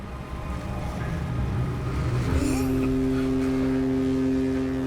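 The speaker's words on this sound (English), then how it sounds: "So 30 seconds ago, that foghorn was coming from over there" A ship's foghorn sounds through fog at sea, a loud steady low tone starting partway through and holding to the end, over constant engine and water noise with people talking nearby.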